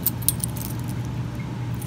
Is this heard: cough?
no